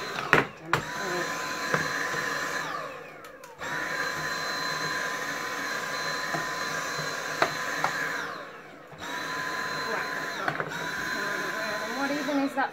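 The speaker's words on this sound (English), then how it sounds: "that's gonna take more than just vacuuming, isn't it?" Vacuum cleaner running steadily while cleaning dust out of a Dell XPS 8300 desktop computer, a loud whine with a few brief pauses and interruptions, some speech in the background.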